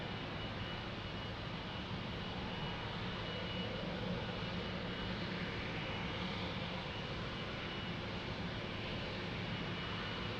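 A Boeing 777 at Lisbon Airport produces a steady, distant jet engine rumble and roar that holds evenly throughout at moderate loudness, with no talking.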